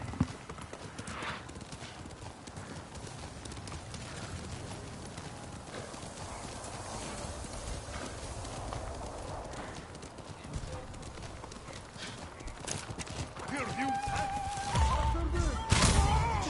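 A horse in the video game Ghost of Tsushima gallops with rapid clip-clopping hooves, joined by a whinny and scattered game sounds, while someone talks over the action.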